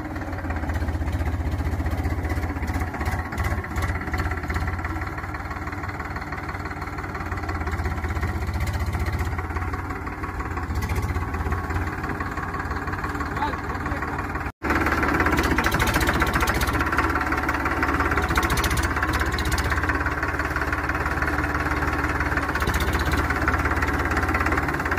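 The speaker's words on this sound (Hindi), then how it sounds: "देखना पीछे आएगा ट्रैक्टर" A tractor engine runs nearby on a farm, a loud, steady low rumble with a rough, knocking throb that continues throughout, briefly cut out once partway through, with no speech.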